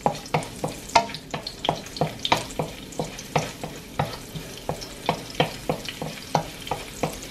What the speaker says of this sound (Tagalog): Okay, just saute the garlic and onion together,